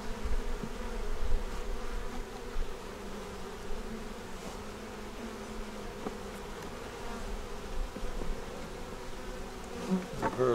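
Honeybees buzz softly around an open nuc hive during an inspection, a continuous low hum of many insects with a few louder passes close to the microphone.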